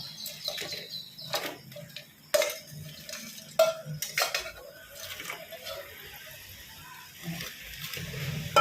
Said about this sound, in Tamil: இப்போ சிக்கன் போடுறேன் அப்படியே கொட்டிடும்